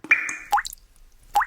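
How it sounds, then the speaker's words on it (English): Water drips from a bathroom faucet into the basin below: three or four close, clear plops with rising pitch and short gaps between them, one long squeaky tone near the start, heard alone. "Does your bathroom faucet drip?"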